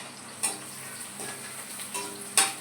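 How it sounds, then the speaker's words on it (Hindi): Onion frying in a pan in a home kitchen, a soft steady sizzle with a few sharp clicks of a spoon stirring against the pan, close and quiet. "इधर मेरी प्याज भुन रही है"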